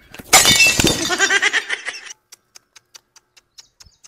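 Dishes shatter loudly during washing-up at a village home, a dense crash of breaking crockery lasting about two seconds, followed by a scatter of small sharp tinkles as pieces settle.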